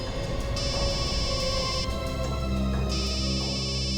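A continuous electronic ringtone tune plays loudly over a low hum, its tones shifting steadily without pause.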